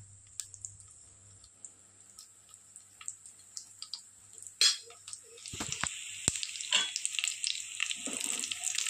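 Raisins dropped into a pan of frying cumin for jeera rice: light clicks and pops at first, then a clatter and a louder, spreading sizzle that keeps crackling.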